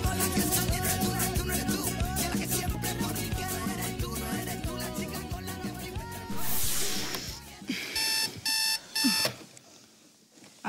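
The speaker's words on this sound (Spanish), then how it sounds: "¿Ha sonado el despertador o lo he soñado yo?" Electronic alarm clock beeping in repeated bursts of short tones after music fades out, loud and close, then stopping.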